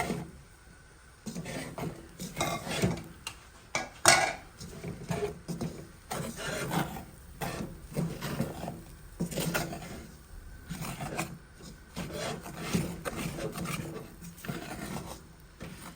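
A spoon scrapes and rasps through thick creamed mac and cheese in a pot, repeated strokes in an uneven rhythm, close and moderately loud with no talking.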